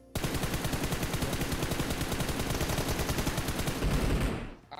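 Automatic gunfire in the BGMI battle royale video game rattles out as one continuous rapid spray lasting about four seconds, loud and close, each shot evenly spaced before the burst cuts off.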